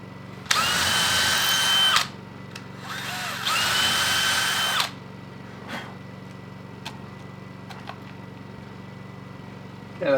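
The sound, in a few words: power drill drilling screw holes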